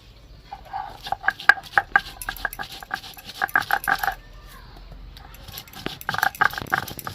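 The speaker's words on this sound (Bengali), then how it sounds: "প্রথমে না এই আদাটাকে একটু থেতো করে নেব" Ginger is crushed by pounding, giving close, loud, rapid knocks in rhythmic bursts. A short pause falls midway before the pounding resumes.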